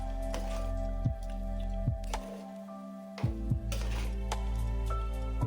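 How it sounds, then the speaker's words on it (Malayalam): Wet squishing and scraping of a spoon stirring a thick Kerala koottukari curry in a pot, with a few soft knocks against the metal, close up and without talk. "ഇത് നമുക്ക് നന്നായിട്ടൊന്ന് ഇളക്കി ചേർക്കാം"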